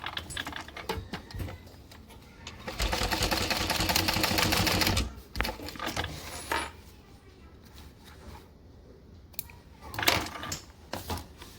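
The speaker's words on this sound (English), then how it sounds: "we're going to stitch across the top of the connector now" A domestic sewing machine stitches across the top of a fabric connector, running in a fast rattling burst of needle strokes, then stopping for shorter runs and a few clicks and handling noises.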